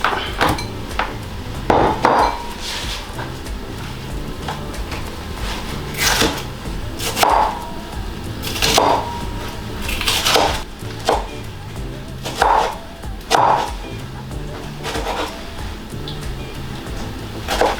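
Onion and zucchini are chopped with a knife on a cutting board, with sharp, spaced knocks coming in short bursts close by against a low background hum.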